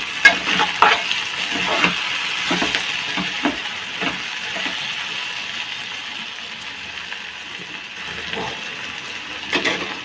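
Food frying in a pan just after half a spoon of chili powder goes in, a steady loud sizzle broken by repeated scraping and stirring strokes of a spoon against the pan.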